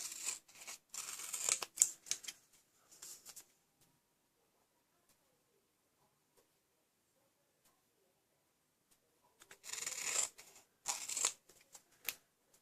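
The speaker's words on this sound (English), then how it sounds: "I'm going to trim off these bits because these bits I do not need." Cardstock offcuts being trimmed for a Christmas quilt glimmer paper card, heard as two bursts of dry snipping and rustling separated by a long quiet stretch, close and fairly faint.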